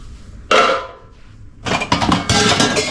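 Heavy tin plates clink and clatter against each other in a few loud, ringing bursts, close by, with a brief pause between handlings.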